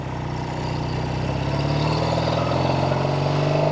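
A 1968 Triumph Bonneville 650 motorcycle engine running under way, a loud, steady rumbling drone with a smooth even pulse that holds for a few seconds, no voices over it.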